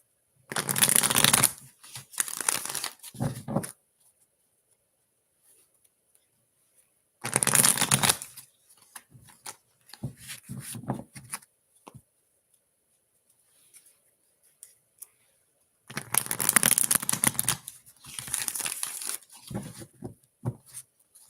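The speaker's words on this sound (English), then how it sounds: "the answer is coming through in the cards as I'm shuffling" Tarot cards are shuffled up close in three separate bursts of quick riffling and slapping, with quiet pauses between them.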